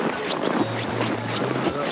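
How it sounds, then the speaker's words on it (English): Strong cold wind buffeting the microphone outdoors in Finland, a steady rough roar with gusty bursts throughout, loud and close. "very windy."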